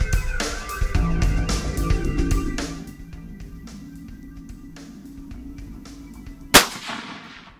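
A rifle fires one sharp, loud report that decays quickly during a long-range groundhog hunt outdoors, preceded by scattered clicks and knocks.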